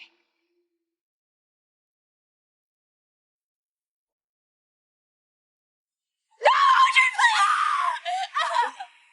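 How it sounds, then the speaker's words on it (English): A woman screams loudly and close up in a sudden, ragged burst that starts after a long stretch of silence and runs several seconds with breathy, wavering breaks. "Zoe, you're screaming."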